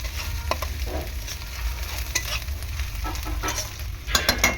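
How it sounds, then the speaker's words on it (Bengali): Onion, ginger and garlic being sautéed for a rohu fish and capsicum curry, with a steady low sizzle and irregular scraping stirs against the pan, louder clatter near the end, no voices. "ভালো করে আদা রসুন আর পেঁয়াজটা কষিয়ে নেওয়ার পর"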